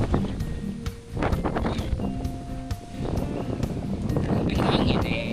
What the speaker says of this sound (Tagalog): Ang hangin eh